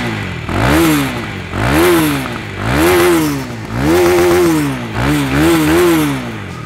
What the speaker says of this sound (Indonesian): tadi lupa belum nyalain suara mesin dan knalpotnya